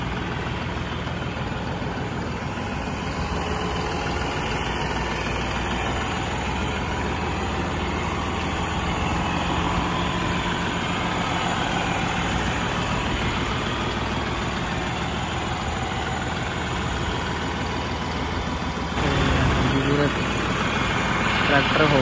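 A new-model 5620 CRD tractor engine idles steadily and loudly nearby with a constant low rumble, slightly louder toward the end.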